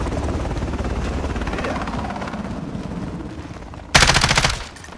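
Machine-gun fire in a Call of Duty team deathmatch, rattling steadily beneath a droning helicopter-like rotor noise, then breaking into a loud, dense burst near the end.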